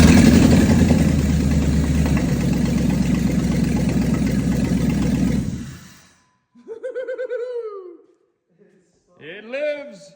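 A freshly swapped Jeep engine on straight-pipe headers with no exhaust roars loudly and roughly at first start-up and idle, then cuts off abruptly, followed by excited voices talking.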